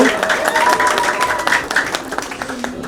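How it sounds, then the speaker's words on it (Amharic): A church congregation claps and ululates in praise, with high wavering trills over steady applause that fade toward the end, mixed with voices. "እልል ብላችሁ እግዚአብሔርን አመስግኑ።"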